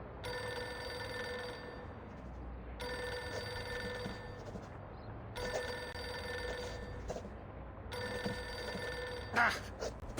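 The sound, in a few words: telephone ringing in the video game Reverse 1999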